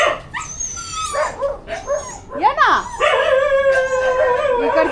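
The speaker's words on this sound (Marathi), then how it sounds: "सगळे कुत्रे आहेत ना त्याला भुकतात म्हणून येत नाही तो इकडं" Several dogs in an open field bark, yip and howl at close to middle distance, with a sustained howl near the end, while a person calls out over them.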